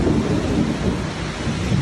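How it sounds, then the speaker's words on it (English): Summer afternoon thunderstorm on the east side of Orlando after a 93-degree day: heavy, loud rain and rolling thunder form a dense, continuous roar with no voices. "Another 5 o'clock summer storm is ripping through the east side of Orlando"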